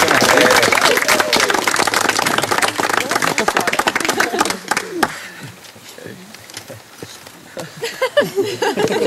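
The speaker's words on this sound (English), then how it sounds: "And a round of applause." Wedding guests clap loudly and densely at first, with laughter and chatter mixed in, then the applause thins into scattered claps and talk near the end.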